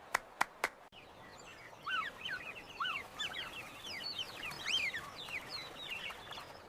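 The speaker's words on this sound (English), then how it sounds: "The birds are heading home." Fowl calling at a farm by a lotus pond, a busy chorus of clucks and chirpy cries rising together at a moderate distance after a few sharp knocks at the start.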